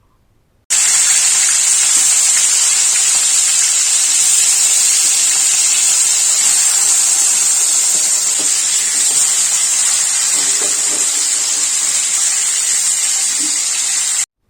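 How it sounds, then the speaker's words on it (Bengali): Rohu fish pieces frying one by one in hot oil in a wok, giving a loud, steady, close hissing sizzle that starts abruptly and holds for about fourteen seconds with only faint clicks beneath it. "কড়াইতে তেল দিয়ে এবার মাছগুলোকে এক এক করে ভেজে নিতে হবে।"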